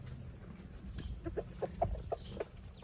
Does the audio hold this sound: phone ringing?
no